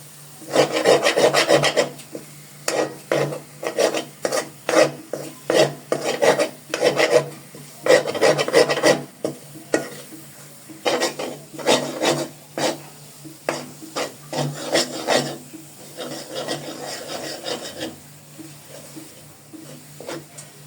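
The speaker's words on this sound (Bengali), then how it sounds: "এখানে আমার হালুয়াগুলো ভাজা ভাজা করতে করতে অনেকটাই কমে আসছে।" Chickpea lentil halwa being stirred and fried in oil in a pan, with repeated scraping, rasping strokes of a spoon in an irregular rhythm, close and fairly loud, with a steady low hum underneath and no talk.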